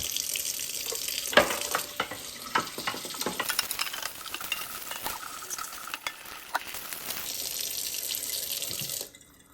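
Dishwasher filter parts from a Frigidaire dishwasher are rinsed under a running kitchen tap, with a steady close hiss of water broken by clattering and splashing as the parts are handled, ending when the flow shuts off.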